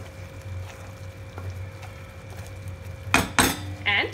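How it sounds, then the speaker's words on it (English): A spoon clinks and scrapes against a pan while gently mixing paneer masala in mustard oil, a few distinct metallic knocks after a quiet stretch. "Mix it gently."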